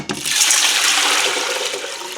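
Six cups of cold water pouring steadily into an Instant Pot over chana dal and baking soda, a continuous bright splashing rush that starts abruptly and holds close and loud with no talk.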